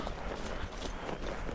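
A horse walks outdoors in a flat-footed gait, its hooves thudding in a muffled rhythm, close and mixed with wind and rustling noise.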